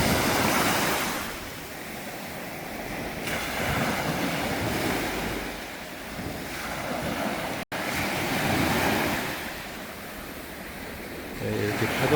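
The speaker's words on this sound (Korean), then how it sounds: "이렇게 파도 소리가 좋습니다." Ocean surf rolls in steadily at Iho Teu beach in Jeju, a loud continuous wash of breaking waves swelling and easing, with wind buffeting the microphone throughout.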